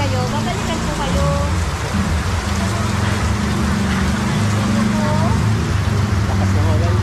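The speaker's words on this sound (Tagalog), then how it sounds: "Lakas ng ulan niyo." Heavy rain pours steadily and loudly throughout, a dense continuous hiss with faint bird-like calls and low rumbling underneath.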